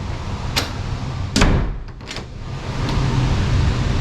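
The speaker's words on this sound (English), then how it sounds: "See, the door's shutting on its own." A door in a new-construction model home swings shut by itself, drawn closed by air suction; a few soft thuds and a brief knock stand out over steady room noise and air hiss, with no speech.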